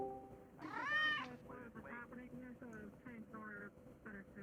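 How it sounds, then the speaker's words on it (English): A cat meows once, loud and drawn out, followed by several shorter meows and chirps in irregular succession against a faint background hum. "Why have I been occasionally hearing, like, cat noises?"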